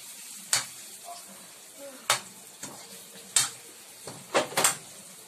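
Dilis anchovies coated in brown sugar are stirred in frying oil, with a spatula scraping the pan in sharp, separate strokes over a low, steady sizzle.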